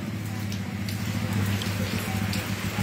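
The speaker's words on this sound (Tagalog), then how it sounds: "Tumatagaktak ang ulan" Heavy rain pours steadily in Pangasinan, a dense continuous hiss and patter close by with a low rumble underneath, unbroken for the whole stretch.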